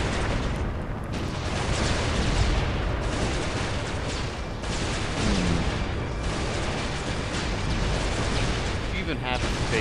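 Heavy weapons fire in Warhammer 40,000: Dawn of War - Soulstorm, a dense, continuous roar of explosions and gunfire that stays loud for the whole stretch, with voice lines mixed into the battle din.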